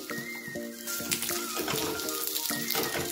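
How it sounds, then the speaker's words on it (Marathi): Egg roll chapati with an omelette stuck to it frying in oil on a pan while being toasted and flipped: a steady sizzle with melodic tones layered over it, no talking. "आता आपण तेल लावून अशी खरपूस छान भाजून घ्यायची"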